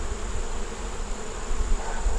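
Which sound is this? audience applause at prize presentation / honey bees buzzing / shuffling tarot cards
honey bees buzzing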